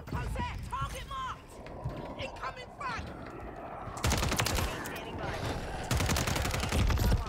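Dense video game gunfire erupts as a DNA bomb strike lands, with sustained rapid bursts and loud blasts that swell in the second half, while a voice talks over the early part.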